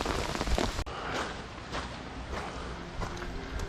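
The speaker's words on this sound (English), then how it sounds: "It's absolutely lashing down." Heavy rain lashes down outdoors at a wild campsite on the West Highland Way, a dense, steady roar of drops drumming on a tarp close by, with a brief sharp knock near the start and no voices.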